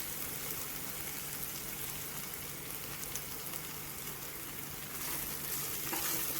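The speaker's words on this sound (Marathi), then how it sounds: "आणि मसाले चांगले तेलामध्ये आपण फ्राय करून घेऊया" Spices frying in hot oil with cooked tomato for a Maharashtrian mung bean dry curry make a steady, close sizzle and crackle that holds evenly throughout.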